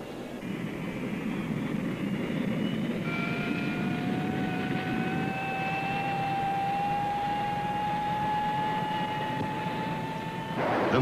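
A naval fighter jet launching from an aircraft carrier gives a steady, loud engine roar with a rising whine that climbs and holds for several seconds, then swells sharply at the end.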